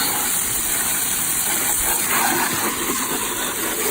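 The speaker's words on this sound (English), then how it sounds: "So give it a rinse now. Giving it a rinse." Water spray rinsing a jet ski, around its seals, brackets and under the bonnet, a steady close hiss and gush that holds without pause for the whole stretch.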